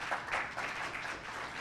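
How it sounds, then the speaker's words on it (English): Applause from a conference talk audience, a steady wash of many hands clapping at moderate distance, with no one speaking over it. "thank you for the applause"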